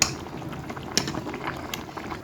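Spaghetti boils in a pot of water for a cinnamon-spiced spaghetti bolognese, giving a steady, close bubbling rush with a few sharper pops and no voices.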